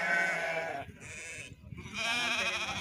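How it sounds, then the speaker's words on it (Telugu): Sheep bleating at a Friday sheep market in Banaganapalle, several loud, wavering calls from nearby with a short pause between them and market noise underneath. "గొర్రెలు ఉన్నాయండి."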